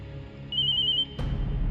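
A mobile phone rings with a single steady electronic tone lasting about half a second, fairly clear indoors. A brief clatter follows it.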